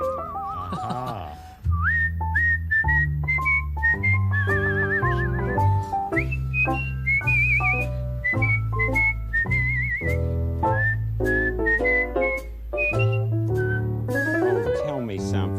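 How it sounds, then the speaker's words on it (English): A person whistles an improvised melody, a run of clear bright notes with slides and trills, close and loud, with a short exchange of speech at the very start. "Do you have any improvisation whistles you could do for us?"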